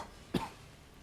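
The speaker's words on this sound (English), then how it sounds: "Sorry, I'm coughing." A single short cough breaks an otherwise quiet background, close and fairly loud.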